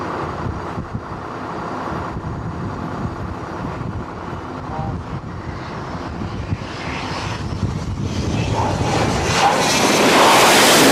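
Loud, steady jet engine roar from aircraft taking off and landing close by, swelling toward the end, with wind buffeting the microphone and brief voices mixed in.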